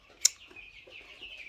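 Sixteen-day-old broiler chickens raised at home give one sharp, brief call, then faint, quiet murmuring and rustling.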